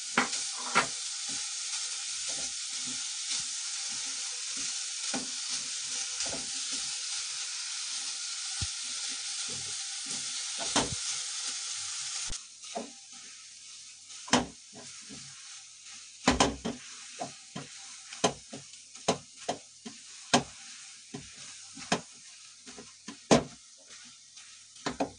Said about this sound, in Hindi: तब तक मैं इसी कढ़ाई के अंदर मावे को भून लूंगी।